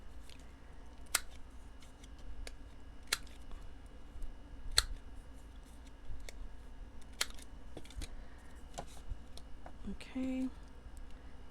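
Scissors snipping the sides off paper tarot cards for a junk journal folio, a scatter of sharp close clicks and crisp cuts over steady low room noise, with a brief voice near the end.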